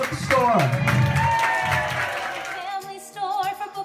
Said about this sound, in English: Let's clap for your local independent bookstore.